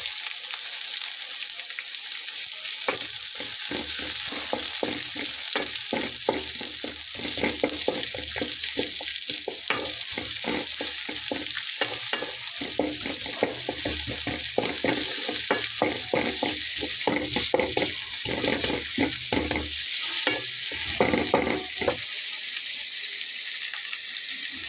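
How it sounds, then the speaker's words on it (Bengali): Onions and whole cumin seeds sizzle in hot oil, a continuous loud crackling fry with frequent scraping stirs, no talking over it. "পেঁয়াজটাকে আমি একটু হালকা ভেজে নেব"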